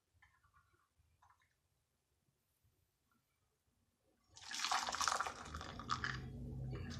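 Home-brewed cough tea poured through a strainer into a cup: after quiet ticks and faint drips, a steady close splashing pour starts and runs on to the end, with no talk.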